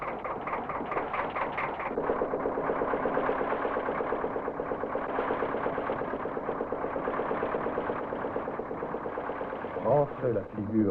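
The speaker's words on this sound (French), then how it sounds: "Lancez le moteur." The engine of a Maldivian fishing boat, filmed in 1979, runs in a steady mid-pitched chugging throb, loud and close, with a sharper surge near the end; a voice narrates over it.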